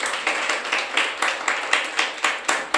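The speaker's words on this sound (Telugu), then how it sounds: "చప్పట్లు కొట్టాలి ఒకసారి అందరూ" A congregation claps in unison, about a dozen sharp, evenly spaced claps in a steady rhythm, loud and close with no talking over them.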